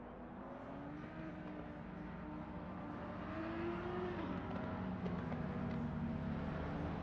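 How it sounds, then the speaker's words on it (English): Race car engines drone and whine steadily in a sim racing game at Imola, a continuous rising and falling tone, fairly faint and without talk. "Hear the engines roar."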